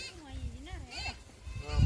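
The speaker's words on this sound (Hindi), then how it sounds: "नाजरीन भेड़ बकरी जंगल में चर गए, वापस आ गई है, अपना ठिकाना पर वापस आ गई है।" Sheep and goats returning from forest grazing in hills near Srinagar bleat several times at close range, their wavering calls overlapping, with a person talking nearby.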